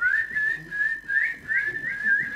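A person whistles a wavering melodic tune in short phrases, close and clear, with brief pauses between bursts.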